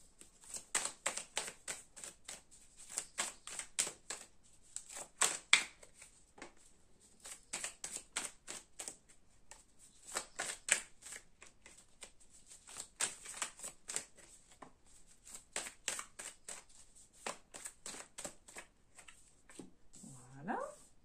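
Tarot cards are cut and shuffled for a reading, giving a steady run of crisp riffling flutters in short bursts throughout, close and fairly quiet, with a brief voice at the very end.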